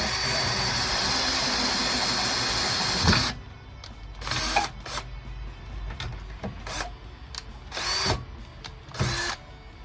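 A loud, steady whine of a power drill with a sharp cobalt bit boring through material on a 2000 Corvette for about three seconds, then stopping, followed by short clunks and handling noises.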